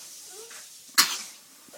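A single sharp sneeze bursts out once, close and loud, amid a quiet indoor room where a small child and a parent are nearby.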